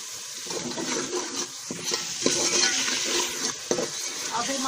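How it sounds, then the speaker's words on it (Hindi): Water poured into a pan of cooking masala for aloo matar, producing a close, bubbling, splashing sizzle with stirring and small utensil knocks throughout. "ये हम थोड़ा सा पानी डालेंगे"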